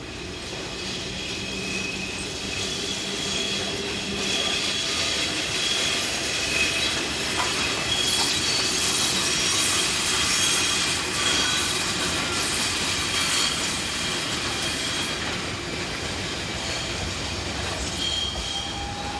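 Swiss Re 6/6 (Class 620) electric locomotives pass through the rail yards at Chiasso, a steady loud rolling rumble of wheels and wagons with faint squeals, continuous throughout and without talk.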